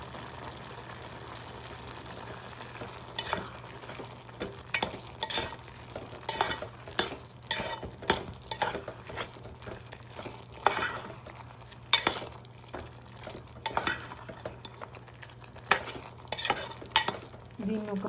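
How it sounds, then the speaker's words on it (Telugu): Tomatoes mixed with salt and ginger garlic paste get stirred in a pan, with a spoon scraping and clinking in irregular bursts over a faint steady sizzle. "టమాటోస్ తొందరగా మగ్గడానికి ఉప్పు, కొంచెం అల్లం వెల్లుల్లి పేస్ట్ అండి వేసి కలిపేయాలి."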